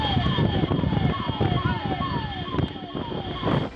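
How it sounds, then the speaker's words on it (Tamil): A police car siren wails in repeated rising-falling sweeps during a road chase of a stolen car, over loud traffic and road noise, close and steady throughout. "போலீசாரின் வாகனம் எச்சரிக்கை தெரிவிக்கும் விதமாக சைரன் ஒலிக்கவிட்ட நிலையிலும்"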